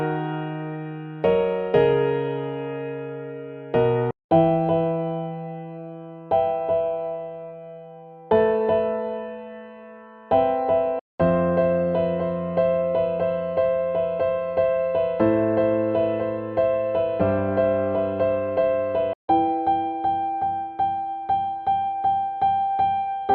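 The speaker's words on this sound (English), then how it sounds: "There are also some piano loops in the pack which have the MIDI included as well" Melodic Afro house piano loop with sustained chords and a bass line, played in a steady repeating progression, clear and alone with no voices.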